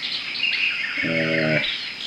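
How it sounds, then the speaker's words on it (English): Bird calls in the video game Amerzone: a few bright chirps and twittering notes sound fairly close over a quiet ambient backdrop, with a short tonal buzz in the middle, no voices. "There's white birds."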